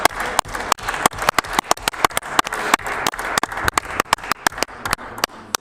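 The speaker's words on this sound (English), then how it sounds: "I think she deserves a round of applause." Applause ripples through a legislative chamber: many hands clap in a steady, uneven patter that stays fairly loud throughout, then thins out toward the end.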